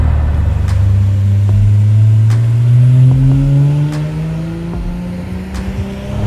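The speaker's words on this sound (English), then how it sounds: "I mean, that is just raw engine noise." A Mercedes-Benz 280SL Pagoda W113 is driven with its raw engine note loud and close, pulling through the gears as the pitch climbs and dips, then settles into a steady drone with no exhaust-dominated sound.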